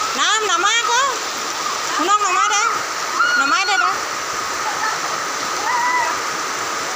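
Heavy rain pours down in a loud, steady roar while children's voices call out over it now and then.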